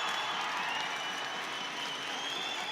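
An ice hockey crowd applauds and cheers on its feet at the end of a Fife Flyers versus Cardiff Devils game, a steady dense roar of clapping filling the arena without a break.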